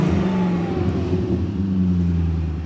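A BMW V8 with stock catalytic converters, a muffler delete and an aftermarket resonator idles loud and close with a deep steady rumble, then swells slightly in a short rev.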